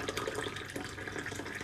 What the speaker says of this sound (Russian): сейчас я тебе буду наливать чаю